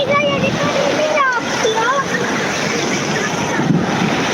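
Sea waves wash continuously onto a beach in a loud, steady roar, with wind buffeting the microphone and faint whistling tones riding over the surf.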